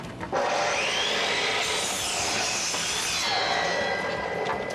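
A power saw cuts through a wooden board for a wall unit, a steady loud whining cut lasting several seconds with the pitch rising and falling as the blade works.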